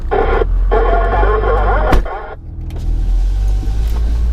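A car's engine hums steadily while power windows run with a motorized whine, then stop abruptly with a thump; low rumble continues, close and loud.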